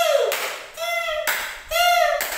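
Grade 3 students in a classroom give a short mosquito clap: voices buzz in gliding tones imitating a mosquito, punctuated by a few quick claps over about two seconds.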